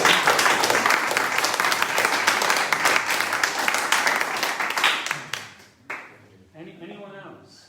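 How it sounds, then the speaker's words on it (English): A room full of people applauds a colleague at a club president's news meeting, dense clapping that holds steady and loud for about five seconds, then thins and fades into scattered claps with faint voices near the end. "I do really want a round of applause for the effort that John made last week"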